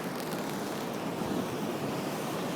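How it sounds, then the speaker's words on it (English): Storm-driven surf breaking along the shore at Daytona Beach, Florida: a steady, loud broadband roar of waves washing in, with gusting wind buffeting the microphone throughout and no voices. "there are some waves."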